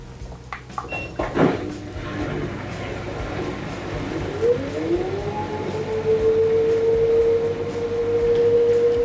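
An LG washing machine drum motor spins up after the door locks, a rising whine that climbs in pitch and settles into a steady tone, heard after a few clicks and knocks at the start.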